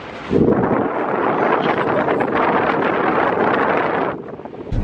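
Strong wind roars and buffets the microphone of someone leaning out of a car's open sunroof on a slow drive, a steady loud rush that starts abruptly and eases near the end.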